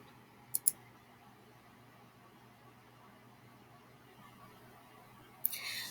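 A computer mouse gives two quick clicks near the start and another click late on, each crisp and close against a faint hum, with no talking.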